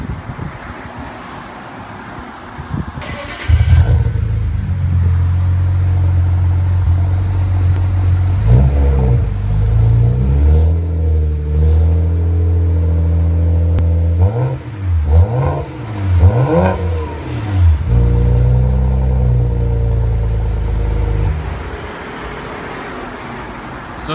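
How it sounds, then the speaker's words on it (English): A 2007 BMW 335i twin turbo fitted with Flowmaster 10 series mufflers and black powder-coated tips starts, then idles loudly up close, with several sharp rev blips rising and falling before it settles back to a steady idle. "this is our BMW now with the new Flowmaster 10 series mufflers, and with some nice powder coated black tips"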